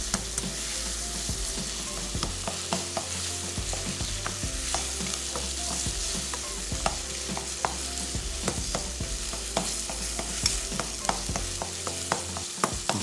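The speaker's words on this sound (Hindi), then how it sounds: "ये कीमा हमने इसमें शामिल कर देना है। इसको खूब अच्छी तरीके से भूनेंगे।" Minced meat frying with garlic, a steady loud sizzle with frequent sharp spatula scrapes and clacks against the pan, continuous and close, no voices.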